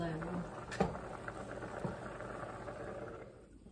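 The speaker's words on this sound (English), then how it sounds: "All right, we are boiling now." Southern butter beans simmer in chicken stock in a pot, a soft steady bubbling and patter under a voice, with a few faint clinks.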